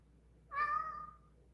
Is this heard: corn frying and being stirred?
no